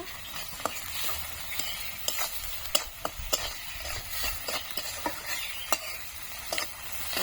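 Onions with salt fry in a pan, a soft continuous sizzle punctuated by frequent sharp clicks and scrapes of a utensil stirring at irregular intervals.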